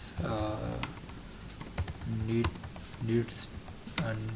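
Rapid computer keyboard typing of comments into PHP database code, clicking steadily close by with a voice speaking over parts of it.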